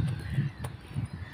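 Birds in Finland call in short, repeated low caws, a few bursts over a second or so, set against faint background noise.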